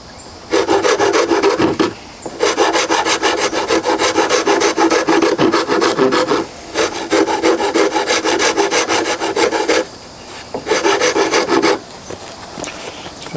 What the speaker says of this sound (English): Use a rasp and use a file.